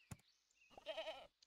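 A goat from the Super Auto Pets video game gives a short, wavering bleat, clear and alone, after a brief click and a faint tone at the start.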